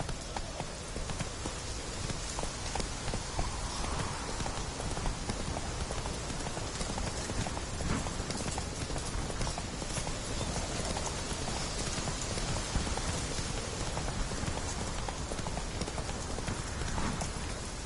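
Roach, a horse in The Witcher 3, gallops in a steady, continuous run of hoofbeats over a dense bed of rain or ambient noise, evenly loud for the whole stretch and without any talking.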